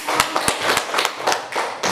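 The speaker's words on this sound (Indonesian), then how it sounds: "Kita tepuk tangan untuk" Students in a classroom clap during a math lesson, a loud, close burst of sharp hand claps in a quick, slightly uneven rhythm.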